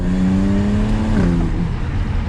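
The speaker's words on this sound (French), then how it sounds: "BMW a travaillé sur l'échappement, 6 cylindres en ligne, biturbo, mais ça sonne pas mal" BMW Z4 35iS with a twin-turbo inline-six and stock exhaust revs hard and close, a steady loud engine note that dips briefly before settling, with no talking over it.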